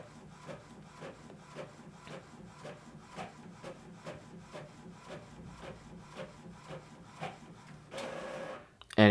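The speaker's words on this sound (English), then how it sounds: "You can hear the printer going off" An inkjet-style home printer runs through a document sent from an Android phone, with a steady series of rhythmic mechanical passes and rubbing, whirring strokes, ending in a louder burst of motor noise near the end.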